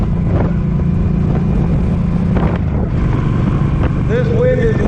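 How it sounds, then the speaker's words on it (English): Strong 40 mph wind gusts buffet the rider of a Suzuki Boulevard M50 motorcycle on the road, making a loud, steady roar of wind noise over the engine's drone that never lets up. "This wind is wicked, so I probably won't be doing much talking."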